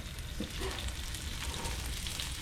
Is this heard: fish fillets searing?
yes